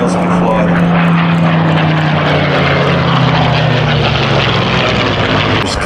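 A Curtiss P-40 Kittyhawk warbird propeller fighter roars loudly and close by, its piston engine droning steadily as it passes, with the tone slowly dropping.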